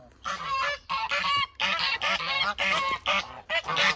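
Male geese brought together and squabbling give a run of loud, close honks in quick bursts of about half a second each, with short gaps between them and no talk.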